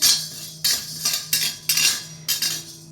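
Chana dal and urad dal roast in a pan, stirred with a metal utensil that scrapes and clinks against the pan in repeated rhythmic strokes, about six in three seconds, over a low steady hum.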